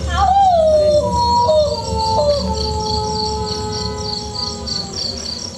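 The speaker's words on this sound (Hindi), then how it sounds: "ये कुत्ते की चीख सुनकर आप ऐसा चौंक क्यों पड़े?" A dog howls in long, wavering, falling tones, loud and close, while a steady high insect chirring buzzes underneath.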